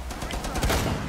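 Rapid burst of video game gunfire during a shootout, loud and dense, crackling continuously through the short moment with no pauses.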